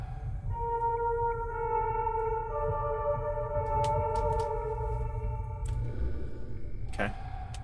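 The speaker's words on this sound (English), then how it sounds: "Play the piano by following the notes." A piano melody played from a score in the horror video game Fatal Frame: Mask of the Lunar Eclipse, sustained tones stepping through a slow tune over a constant low rumble, ending with a brief sharp hit.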